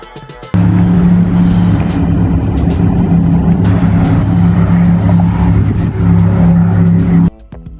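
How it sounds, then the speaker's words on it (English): A motorboat draws near on Mississippi River floodwaters, its engine a steady, loud, low droning rumble that holds throughout before cutting off near the end. "Oh, I hear a boat coming."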